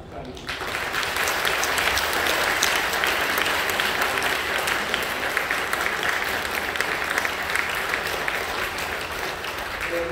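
A church congregation applauds continuously at a baptism certificate presentation, a dense, loud wash of many hands clapping steadily for about ten seconds.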